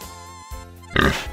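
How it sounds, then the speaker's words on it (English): A pig gives low grunting oinks followed by a louder, rougher squealing snort at the end, close by and with no one talking. "Pig."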